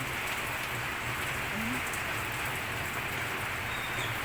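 Steady rain falls continuously in a rainy outdoor setting, a dense even hiss at moderate level with no other sounds.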